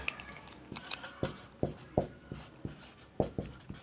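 Irregular taps and scratches of writing on a classroom board during a school lesson, close and moderately quiet, with no talk over them.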